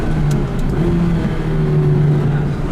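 A McLaren 570GT engine accelerates with slight turbo lag, its steady droning tone rising gradually, loud and close, on a drive up a volcano.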